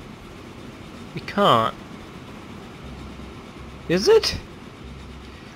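A train runs in the video game Train Fever as a low, steady rumbling hum beneath two short bursts of a speaking voice.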